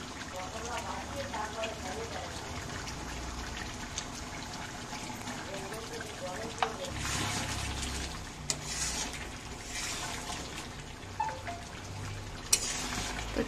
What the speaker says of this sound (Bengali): এবার গরম মশলা দিয়ে লাবিয়ে নেব